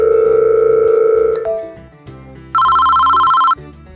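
A telephone rings with loud electronic tones: a sustained ring that cuts off, a short pause, then a second higher ring that stops abruptly.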